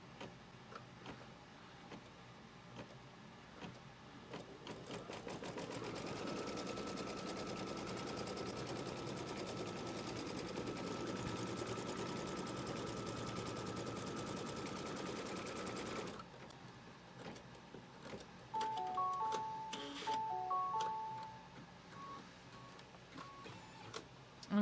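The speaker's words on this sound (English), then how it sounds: "we're going to stitch this down. It's going to stitch a line from here over to there" A Kimberbell machine stitches a straight line through quilt fabric for a Pumpkins & Potions embroidery block, a steady, fast mechanical whir that runs unbroken for about ten seconds, then stops and leaves faint clicks and beeps.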